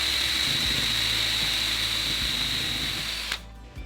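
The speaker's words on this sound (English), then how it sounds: "so I know when I drill the pilot hole." A power drill whines steadily while boring a pilot hole in wood for travel trailer cabinets, a continuous near tone that cuts off abruptly near the end.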